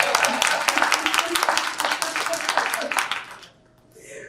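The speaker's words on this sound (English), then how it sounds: "You can clap for the two of them." A modest audience claps for two state senate candidates at a debate, a scattered patter of hands for about three seconds that dies away, with a voice starting up after.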